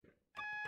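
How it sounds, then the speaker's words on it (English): An AWS self-test alarm sounds in a locomotive cab in Train Sim World, a steady high electronic tone that starts abruptly after a brief quiet hum and stays loud to the end. "That alarm is the AWS self-test system."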